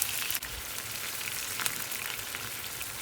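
Butter, garlic and thyme sizzle in a pan while making scallop risotto, a steady bright crackling hiss like light rain, continuous and close, with no voices.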